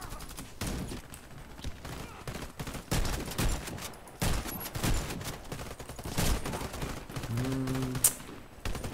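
Rapid gunfire in the shooter game Warface, sharp repeated shots and bursts across the whole stretch, loud and close, with a brief tonal game sound near the end.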